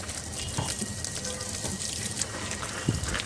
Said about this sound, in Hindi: तो इनमें भी हल्का हल्का पानी की बरसात कर देती हूँ